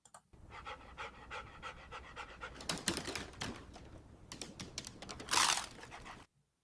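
A small dog panting in rapid, rhythmic breaths, close and soft, steady for about six seconds before stopping.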